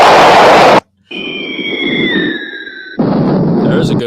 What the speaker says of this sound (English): That was a missile.